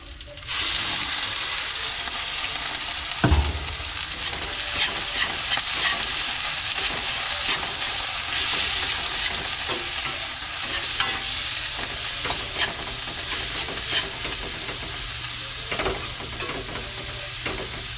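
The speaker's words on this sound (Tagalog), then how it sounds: "Tapos ilunod ko na rin itong ating karne." Meat sizzles and fries loudly in a pan, a dense continuous hiss with occasional stirring scrapes and a brief knock near the start, close and steady throughout with no talking.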